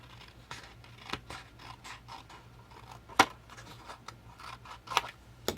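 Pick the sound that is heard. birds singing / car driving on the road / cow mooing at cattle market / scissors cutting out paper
scissors cutting out paper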